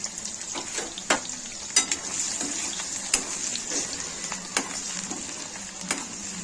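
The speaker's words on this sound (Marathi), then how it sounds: "पहिले मी लसूण फोडणीला घालत आहे" Garlic sizzles and fries in hot oil already used for frying dried Bombay duck, a steady crackling hiss broken by sharp spatters and occasional stirring clinks, close up with no talk.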